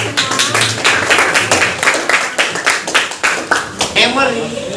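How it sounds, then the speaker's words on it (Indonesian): Group of students clapping together in a classroom, a fairly loud burst of handclaps with an uneven rhythm that carries on for several seconds before tapering off. "tepuk tangan buat kita semua."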